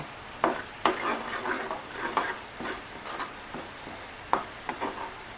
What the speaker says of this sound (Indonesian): Tumis dulu. Sambil diaduk-aduk, jangan sampai dia gosong.